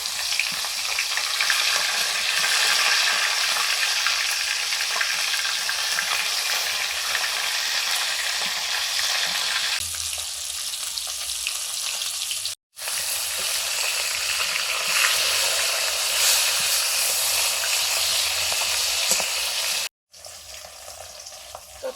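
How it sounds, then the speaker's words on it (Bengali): Fish frying in mustard oil, a loud steady sizzle that fills the whole stretch with only two brief drops to near silence, no one talking. "সর্ষের তেল দিলাম মাছগুলো ভাজার জন্য"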